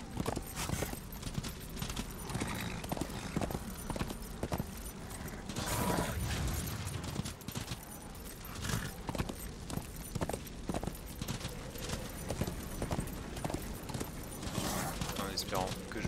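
A horse gallops in the video game Darksiders, its rapid clip-clop hoofbeats repeating steadily with mechanical clanks and creaks throughout, and a voice is heard at times.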